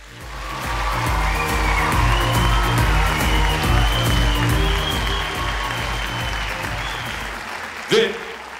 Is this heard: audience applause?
yes